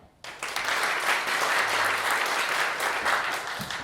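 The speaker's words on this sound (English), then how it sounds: "we'll vote with our applause" An audience applauds steadily in a jazz vespers service to vote for a song, sustained clapping from many hands at moderate loudness, starting abruptly and holding without a break.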